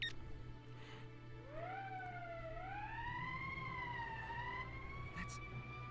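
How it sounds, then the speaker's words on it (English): An emergency siren wails in the video game Valkyria Chronicles, a rising then gently wavering tone that holds steadily at moderate level over a low background hum. "That's the emergency siren"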